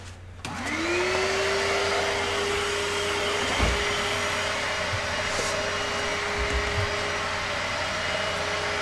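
A Bissell Little Green carpet extractor heating its water runs with a steady whining motor hum that starts abruptly and drones on throughout, with a few faint knocks and bumps near the end.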